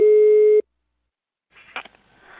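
A phone call tone sounds once as a single steady electronic beep, followed by about a second of silence, then faint handling rustles and clicks.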